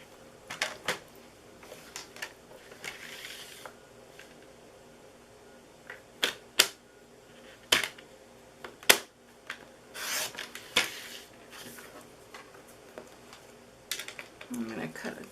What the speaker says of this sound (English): I'm gonna just bring my trimmer up here real quick and trim it so I have it